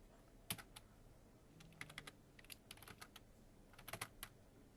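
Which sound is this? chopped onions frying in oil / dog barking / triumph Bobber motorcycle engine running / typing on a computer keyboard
typing on a computer keyboard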